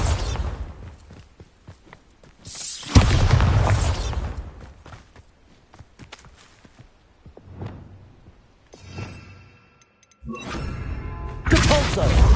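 Bombarda blasting spells exploding in Hogwarts Legacy: heavy booming bursts erupt repeatedly, each a loud thud with crackling debris, separated by quieter stretches of game ambience and faint effects.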